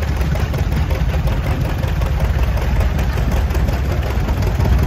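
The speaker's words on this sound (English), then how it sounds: "A John Deere owned by Pat Quigley from Wilmington." Antique John Deere Model A tractor engine running at an antique tractor and steam engine show parade, as a loud, steady, close drone with no voices over it.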